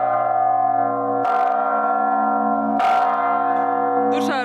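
Newly cast bronze church bells at a monastery bell tower ring loudly with rich, sustained humming tones and layered overtones, struck again at intervals so the resonance swells and lingers continuously.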